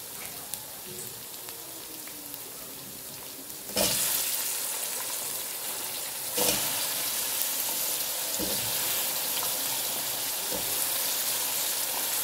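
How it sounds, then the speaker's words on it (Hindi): Potatoes frying in a pan with garlic and ginger give a steady, loud sizzle with stirring scrapes, rising sharply as they go in and holding dense and continuous throughout with no talk. "ये आलू की इसमें भुनाई हो रही है"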